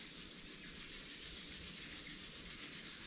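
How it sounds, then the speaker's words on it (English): Palms rubbed briskly together during a yoga for golfers routine, a close, continuous soft rasping swish with no talking. "Rub your palms,"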